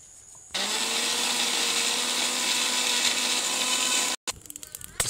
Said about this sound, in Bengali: এবার এটাকে মিক্সচারে ভালোভাবে পেস্ট করে নিই।